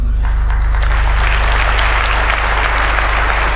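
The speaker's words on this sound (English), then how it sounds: "Finally, someone managed to get a round of applause going." A live studio audience breaks into sustained, dense clapping at a political talk show, steady and loud for several seconds over a low background hum.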